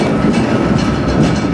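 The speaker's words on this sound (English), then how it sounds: "This is the first time I've gone into Kentucky on a train." A passenger train rolling on rails into Kentucky near Covington, heard from aboard as a steady loud rumble with faint rhythmic wheel clatter and no talk.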